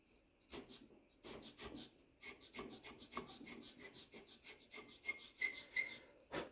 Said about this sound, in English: I have a veining chisel.